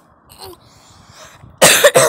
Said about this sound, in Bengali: ভয়েস ওভার করতে গিয়ে আমার অনেক কাশি হচ্ছে